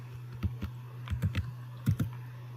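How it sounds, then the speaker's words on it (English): Typing an article title on a computer keyboard, a few close, crisp key taps in small clusters over a steady low electrical hum. "I'm going to type in the title of the article within the search box"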